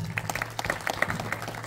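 Audience applause for actor Rishab Shetty at a public event, a thin scattering of individual claps ringing out fairly close, uneven and irregular, with no speech over it.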